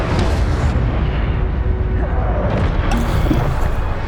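Incendio fire spell cast in Hogwarts Legacy, a loud roaring, whooshing burst of flame with a rumbling low end, continuous and close.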